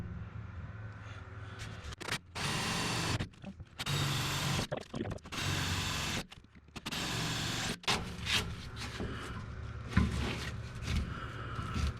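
Several bursts of loud, harsh whirring grind in close succession as a drill bores through the sheet-metal rear floorboard of a 1967 Kaiser Jeep M715 cab. Each burst lasts about a second, separated by brief pauses and quieter shop noise.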